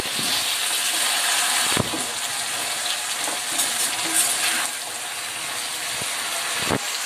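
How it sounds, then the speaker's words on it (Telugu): Jackfruit pieces frying in oil in a pan for a tomato curry, a loud continuous sizzle with occasional scraping stirs and soft knocks throughout. "ఇవ్వండి పనసెక్కలు అయితే వేసేసుకుందాం. ఇవి కూడా బాగా ఫ్రై అవ్వాలి."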